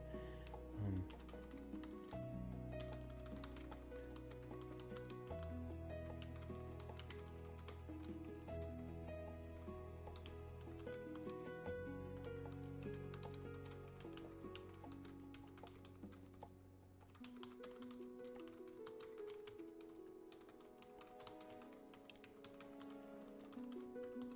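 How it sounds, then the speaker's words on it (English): Quiet, steady tapping on a computer keyboard in quick bursts, continuing alone over a low tonal background hum. "Sorry, I'm typing real quick."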